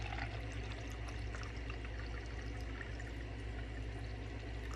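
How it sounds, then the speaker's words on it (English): Water being poured steadily into a cup for a respiration lab, a continuous rushing, splashing pour that holds for the whole stretch without pause. "now I'm going to fill the cup with water up to the 0 centimeter mark right here at the top"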